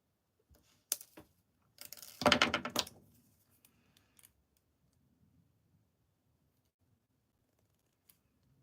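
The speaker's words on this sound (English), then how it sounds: "I'm gonna trim those ends and tuck them in so they're hidden in this corner" A few sharp, quiet snips as wire ends on a handmade ring are trimmed, followed by a short cluster of clicks and faint handling noise in a quiet room.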